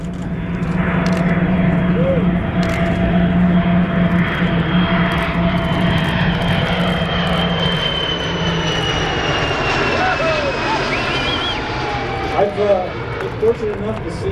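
The White Knight carrier aircraft flies overhead in tight formation with SpaceShipTwo attached, its engine drone steady and loud, pitch shifting as it passes, while a person talks over it.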